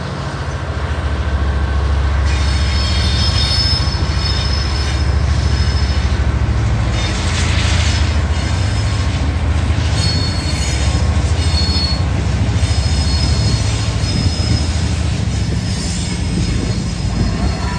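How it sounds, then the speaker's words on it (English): An electric commuter train bound for Millennium Station in the Chicago area arrives with loud, sustained, high-pitched wheel squeals over a steady rolling rumble, close by and without talking. "Electric train number 126 to Millennium Station is arriving in approximately 5 minutes."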